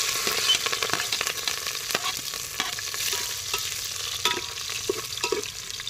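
Chillies and onions sizzle and fry in hot oil for a village-style chicken curry, a steady close crackle broken by sharp stirring scrapes, with no talking.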